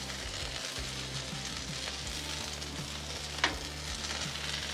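Bacon sizzling on a Blackstone griddle, a steady, quiet crackling hiss with a low rhythmic hum beneath and one brief sharp tick partway through.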